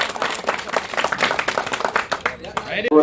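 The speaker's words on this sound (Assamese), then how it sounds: "দিয়ক এটা জোৰদাৰ হাত চাপৰি" Audience applause at a sports ceremony of the Guwahati division, a dense, steady wash of many hands clapping close by, with voices mixed in and the clapping thinning toward the end.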